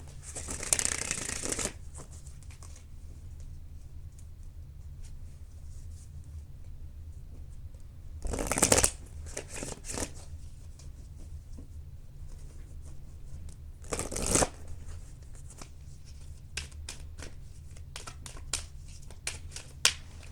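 Tarot cards being shuffled at close range, with three brisk riffling bursts spaced several seconds apart and quiet handling rustles between them, and no speech.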